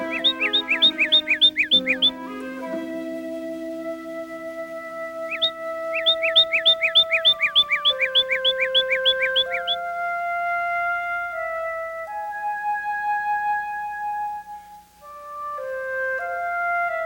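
Backyard birds calling before a storm: bright repeated chirping bursts in quick rhythmic series, alongside sustained whistled tones and lower calls, fairly close and clear with no talk.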